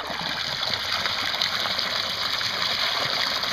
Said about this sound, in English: I can show you the return water flow so you can get a good idea of what the power of the system really is